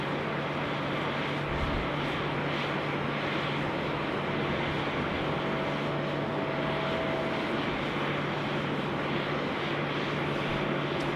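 A large aircraft, a UPS 74 among the traffic, rumbles steadily while taxiing at Sydney Airport, a continuous broad engine drone with a faint tonal hum, distant and even throughout with no talk.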